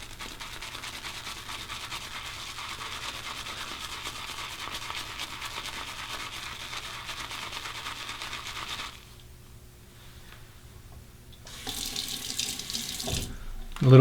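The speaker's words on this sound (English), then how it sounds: "A little bit of hot water." Hot water runs steadily from a tap into a shaving bowl for several seconds, briefly quietening before a louder splashing pour resumes near the end.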